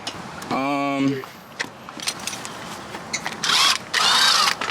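Electric power tool whirs in short bursts during an intake install on a Nissan 370Z, with tool clicks and clatter, and people talk in between.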